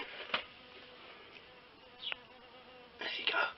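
A bee buzzes inside a greenhouse in quiet, short bursts: one brief buzz, a second a couple of seconds later, then a longer closing burst against faint background hiss.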